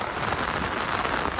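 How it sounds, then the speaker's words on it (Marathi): Heavy November downpour in the Konkan near Kasmal, Pen, a steady dense hiss of rain pounding surfaces, loud and unbroken with no voices. "पाऊस बघा, पाऊस, तुफान पाऊस पडतोय"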